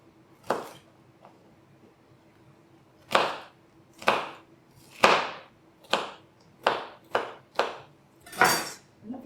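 Knife chopping a pepper into cubes on a board: about ten sharp, separate chops, close and clear, with short pauses between them in a quiet kitchen.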